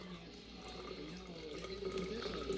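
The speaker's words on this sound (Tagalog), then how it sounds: "Ito pinakulo na yung tubig yan. Lagayin nyo na." Freshly boiled water pours steadily into a cooking pot, a continuous splashing stream that builds slightly toward the end, with faint background voices.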